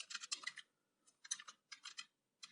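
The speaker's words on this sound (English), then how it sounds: "we can type text" Someone types text on a computer keyboard in quick bursts of close, light key clicks separated by short pauses, with no talking.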